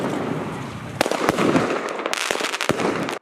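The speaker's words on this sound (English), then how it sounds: "When lighting a firework, hold a lighter on an arm distance only." Fireworks and firecrackers bursting in a rapid run of sharp cracks and bangs over a dense crackling wash, loud and fairly close, with no talk.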